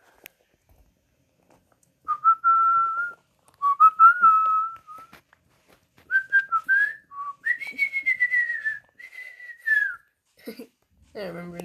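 A person whistles a song in clear, bright phrases with short pauses between them, the melody rising and falling, close and solo.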